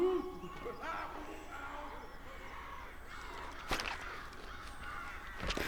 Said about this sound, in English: There's nothing worse than an angry